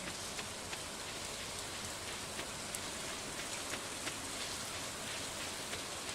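Rain falls steadily in the video game Stardew Valley, a soft, continuous patter with scattered drops ticking on surfaces, played quietly with no talk.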